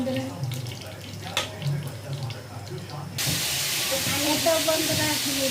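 Water poured into a pan of fried onion paste while cooking chicken biryani, a sudden loud rushing hiss that starts partway through and holds steady after quieter kitchen sounds and some faint talk.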